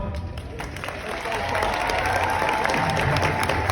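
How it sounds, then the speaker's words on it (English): A crowd applauds the Prospect Heights seniors as they stand and step forward, clapping that swells and grows louder midway and holds steady, with some cheering and voices mixed in. "so we can give them a round of applause"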